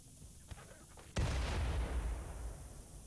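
Explosion in the video game Rimworld: a single sudden loud blast that follows faint clicks, then fades into a long rumbling noise.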